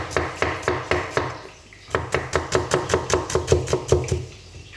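Knife chopping onions on a board for fish bharta, a quick steady run of sharp close knocks with a brief pause before the rhythmic chopping resumes, no talking.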